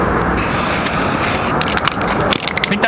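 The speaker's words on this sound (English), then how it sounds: "We eventually spray painted it" A rattle can sprays paint onto a school bus in a steady close hiss, broken later by a few short bursts and scraping or rattling sounds.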